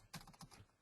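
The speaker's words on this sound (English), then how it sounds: "we'll just type into the note" Quick typing on a computer keyboard, about six soft, close key clicks in a brief uneven burst, heard alone against a quiet room.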